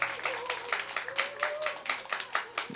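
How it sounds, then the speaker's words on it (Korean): A church congregation claps in rhythmic bursts, a fairly close, even patter of applause lasting a few seconds with a faint tonal hum underneath. "우리 박수로 격려해 주시기를 바랍니다"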